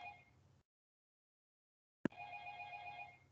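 A telephone rings faintly during a lecture as a steady two-tone electronic trill, which cuts to silence, returns after a sharp click and keeps ringing.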